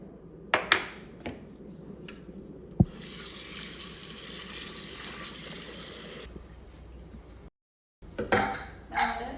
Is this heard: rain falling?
no